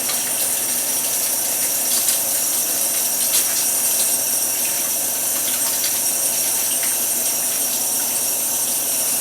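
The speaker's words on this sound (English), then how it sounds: "first off, wash your hands" Running tap water pours steadily in a home kitchen while hands are washed before making hamburgers, a continuous hissing gush, close and fairly loud, without talk.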